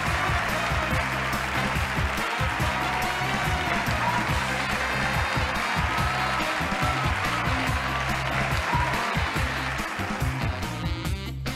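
Studio audience applause from the Wheel of Fortune video game on Nintendo Switch, a steady, dense clapping roar that runs continuously at an even loudness throughout, with no voices.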